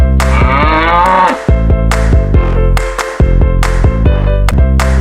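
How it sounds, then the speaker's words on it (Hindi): A yak gives deep, drawn-out grunting calls, loud and close, several in a row with no voices. "Yak. Yak means yak."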